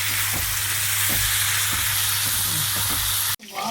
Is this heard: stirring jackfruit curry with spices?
yes